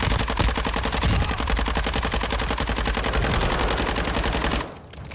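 Gunfire in Call of Duty DMZ, a rapid sustained burst of automatic shots, loud and close, running several seconds before stopping abruptly near the end.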